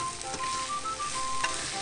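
Onions and crab sticks stir-fry in a pan with a loud, steady sizzle and a few crackling pops over a brief stretch.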